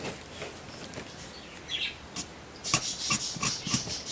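An IG8 chisel-tip alcohol marker rubs across paper during card coloring, giving soft, faint scratchy strokes in short repeated bursts near the end, close and quiet with no talking.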